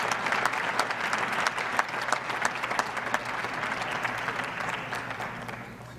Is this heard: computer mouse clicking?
no